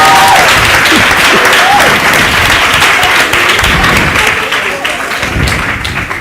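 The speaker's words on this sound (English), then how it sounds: "Let's just give them a big round of applause." An open-day audience at a maritime event gives a group a big round of applause, a loud, close and dense clapping that holds steady, then eases slightly toward the end, with faint voices mixed in.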